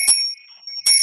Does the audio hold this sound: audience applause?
no